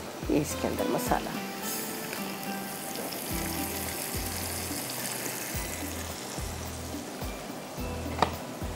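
Spiced masala paste for Afghani rice fries in a pan with a soft, continuous sizzle. Someone talks over it, with a few clinks of utensils.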